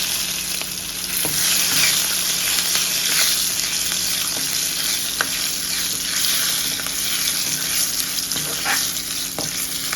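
Chana dal and dried red chillies sizzle and crackle in hot oil for a tempering, a constant frying hiss dotted with sharp little pops.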